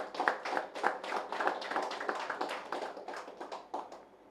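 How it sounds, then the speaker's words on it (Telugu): Audience applause for a woman being honoured at a company gathering in a hall, dense steady clapping that swells and tapers off over a few seconds, with no talk over it. "ఒకసారి మేడంకి గట్టిగా చప్పట్లు కొడదాం"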